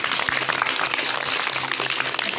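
Dense, continuous clapping from a group of children at a magic show, steady and fairly loud throughout with no clear individual claps standing out.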